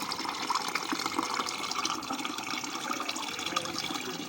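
A tap opened fully during a faucet repair, with water rushing out in a steady, continuous splashing stream that stays close and loud throughout, with no voices.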